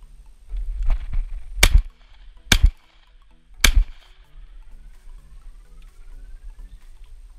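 Three sharp gunshots from thrush hunting ring out at irregular intervals across open ground, with quieter rustling and faint background noise between them.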